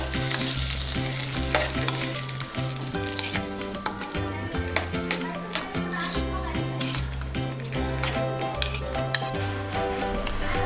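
Hot tempering is poured into semiya idli batter and mixed in, bringing a brief sizzle under steady scraping and clinking of a spoon against the vessel, with music playing throughout.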